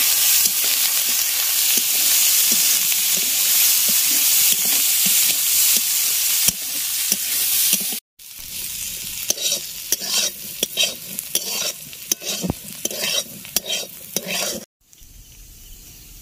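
Boiled wild figs fry with lightly browned garlic and spices in a pan and are stirred. A loud, steady sizzle runs throughout with scraping strokes of the spoon, broken by two brief cuts to silence.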